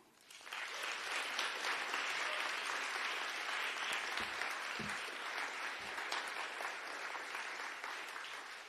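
An audience applauds after a poetry reading at a radical book fair event in a bar. The clapping is sustained and even, rising quickly and holding steady at a modest level, with no speech over it.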